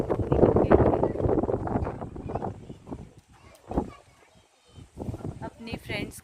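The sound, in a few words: strong wind blowing outside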